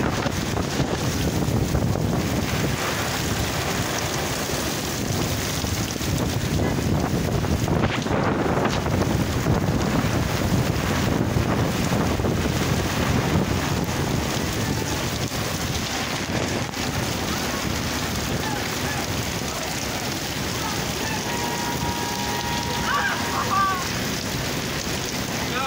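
Severe storm in Flatbush, Brooklyn, New York, with heavy rain pounding surfaces and strong gusting wind buffeting the microphone in a dense, continuous roar that lasts throughout.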